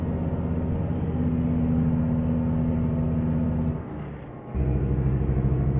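Heavy truck engine droning loudly in a convoy on the road, a steady low rumble that briefly dips as the gear changes and then comes back strong under acceleration.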